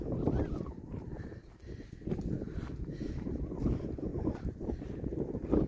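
Strong wind on a hilltop buffets the microphone in a steady low roar, gusting louder at times, with no one speaking.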